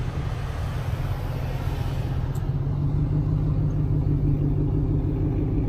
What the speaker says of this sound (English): The Ford that was there earlier that also kind of circled by. Black Ford Explorer.